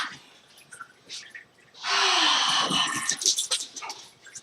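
A dog snorts and growls close by, a burst of loud rough breathing and throaty noise after a few quieter sniffs, fading into uneven huffs.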